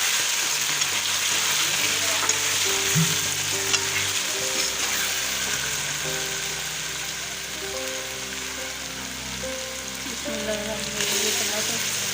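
Garlic ginger paste frying and sizzling in hot oil for a chicken curry with potatoes and peas, a steady close crackle with occasional stirring scrapes and no talk.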